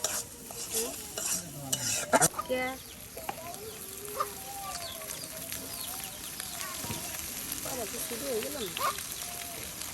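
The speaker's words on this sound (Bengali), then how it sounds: "এখন কিন্তু সব কিছু একদম মিক্সড করে দেওয়া হচ্ছে আর নুডলসের সাথে" Noodles being stirred and mixed in a pan during village Eid cooking produce repeated scraping and sizzling, while hens cluck nearby and voices talk in the background.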